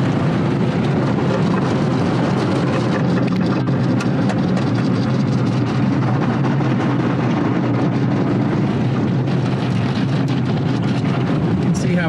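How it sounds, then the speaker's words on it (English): An automatic car wash machine spinning its brushes over a car, a loud continuous whooshing roar with churning water spray, steady and close for the whole stretch. "And this is what we call in the US an automatic car wash."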